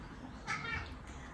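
A single short, faint cat meow rises briefly out of a quiet room.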